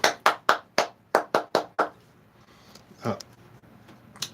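A run of seven or eight sharp hand claps in a quick, fairly even rhythm, loud and close, followed by a couple of scattered fainter taps and knocks.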